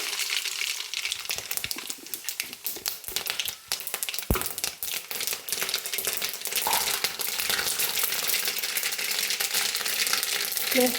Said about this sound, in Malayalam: ഇതിലേക്ക് കടുകെല്ലാം പൊട്ടിയിട്ടുണ്ട്